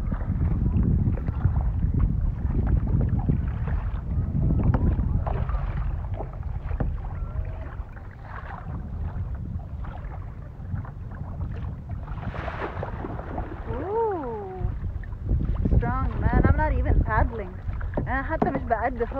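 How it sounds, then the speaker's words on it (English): Paddles work a rowboat on open water under steady wind rumble and splashing, with people talking and laughing throughout. "حتى مش بقدف، هو اللي عمال يقدف."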